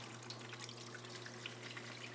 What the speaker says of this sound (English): And you can see we have coolant bubbling up there.